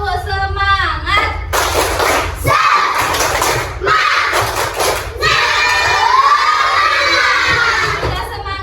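A grade-four class of schoolchildren bursts into loud shouted cheers with clapping and thumps, in several surges, with a teacher's voice between them.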